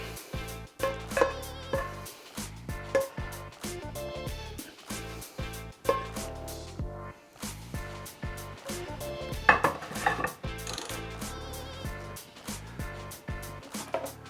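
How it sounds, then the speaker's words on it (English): Cooked mushrooms for creamy mushrooms on toast being scooped from a pan onto a plate, with a quick series of close utensil clinks and scrapes against metal and crockery in an irregular rhythm. "Scoop out the mushrooms onto the plate."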